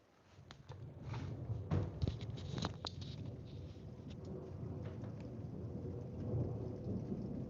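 Heavy thunder rolls through a live outdoor storm with lightning, a loud low rumble with sharp cracks near the start, carried over a constant wash of rain.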